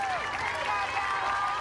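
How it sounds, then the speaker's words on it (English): A college softball crowd at a UCLA versus Florida State game applauds in a steady, soft wash of clapping, with a public-address voice speaking over it. "Round of applause for Bella Dimitrievich coming back from that injury she suffered in the fall"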